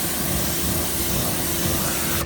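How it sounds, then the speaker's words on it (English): Moxie wheel cleaner sprays onto dirty car wheels in one continuous, loud hissing burst that cuts off abruptly at the end, with no talking. "I'm going to spray it real quick just to get it wet."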